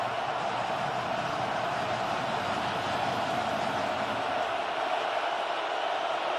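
Dense, steady roar from a packed football stadium crowd at a Michigan vs Ohio State game, a broad wall of cheering and noise holding for several seconds with no clear voices standing out.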